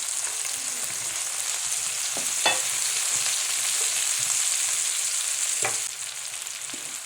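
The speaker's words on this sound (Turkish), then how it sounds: "Daha sonra kızartmış olduğumuz patateslerimizi tavamıza ekleyelim." Fried potatoes sizzle steadily in a pan as a continuous close hiss, with a few clinks and stirring knocks scattered through it.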